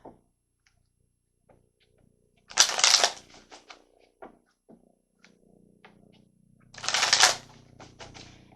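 Tarot cards shuffled in two brisk bursts, each a dense rapid riffle of flicking card edges, with soft handling clicks and taps between them in a quiet room.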